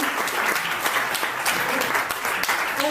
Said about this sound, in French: Donc vous pouvez l'applaudir même s'il n'est pas là parce qu'il le mérite très fort.